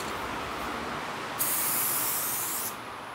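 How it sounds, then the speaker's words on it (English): A can of transparent spray paint hisses out a single line, a bright steady spray burst of about a second and a half over a quiet room background. "Let's finally test this can."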